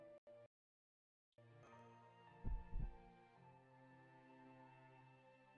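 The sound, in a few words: heartbeat sound in Fate Grand Order video game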